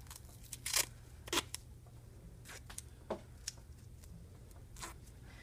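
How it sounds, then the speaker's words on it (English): Medical tape handled and applied over a Band-Aid securing a nasogastric tube at the nose, with faint crinkles, tearing and sharp ticks spaced over a quiet hum. "I will reinforce it with some tape"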